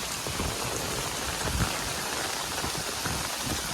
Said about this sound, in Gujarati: વરસાદ પણ સારો